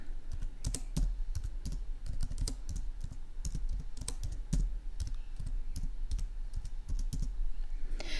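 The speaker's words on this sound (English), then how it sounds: "The first thing the user will do is enter the address of the caller, and they will type that in the search box here." Rapid keystrokes on a computer keyboard as an address is typed into a web mapping search box, a steady run of close, crisp clicks with uneven rhythm and no talking.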